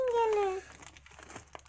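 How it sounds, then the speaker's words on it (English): Plastic wrap being torn off a Pokémon Cosmic Eclipse card pack, a short burst of close crinkling and rustling with a squeaky tone at the start, quieter crackles trailing off. "Let's rip off the plastic here."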